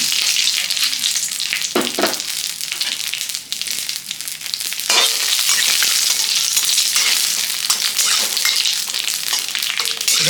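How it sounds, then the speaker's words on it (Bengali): Bay leaf and fennel seeds dropped into hot oil in a kadai, crackling and sizzling loudly and continuously up close, with a couple of sharper bursts as they hit the oil. "তেল গরম হয়ে গেছে দিব হচ্ছে তেজপাতা আর হচ্ছে মৌরি"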